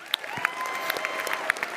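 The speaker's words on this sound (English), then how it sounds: "can we get a big round of applause" Steady applause from a crowd, dense clapping with scattered louder claps and a faint cheer rising underneath.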